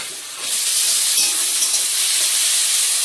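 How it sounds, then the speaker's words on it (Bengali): Steady broad hiss of steam from a pot of eggs boiling on a home kitchen stove, continuous and fairly loud from start to finish with no talking. "একদিকে ডিম সেদ্ধ করছি।"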